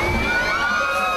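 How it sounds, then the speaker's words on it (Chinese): Crowds of families at the Yilan International Children's Folklore and Folkgame Festival by Dongshan River, a water festival, with children and visitors shouting and screaming together in a loud, continuous burst of excited cheering. "滑下来时都忍不住要尖叫起来"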